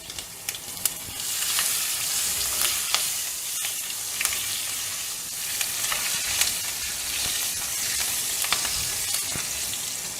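Green chillies sizzle and crackle steadily in hot oil with asafoetida, with occasional sharper pops and stirring sounds, close by.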